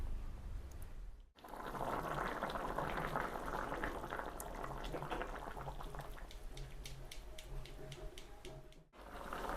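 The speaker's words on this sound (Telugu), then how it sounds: "చూడండి మామ, మనకైతే ఏ విధంగా ఉడుకుతున్నాయి ముక్కలు, ఇట్లా జుమ్మర్ ఉడుకుతున్నాయి అన్నమాట." Fish pieces of Telangana-style rohu fish pulusu bubble in a simmering pot, a dense, continuous gurgling boil heard close up without speech, briefly cutting out near the start and the end.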